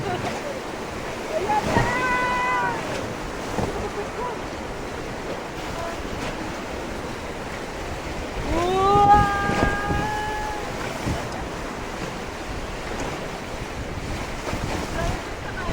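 River rapids churn and splash around a whitewater raft, a continuous rushing wash of water and wind. Excited voices shout over it, with a louder surge of splashing midway.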